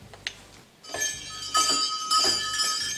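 A door bell rings at the entrance of a combined doctor's office and studio, a few bright metallic chimes ringing out with a lingering shimmer, close by and with no talk over it.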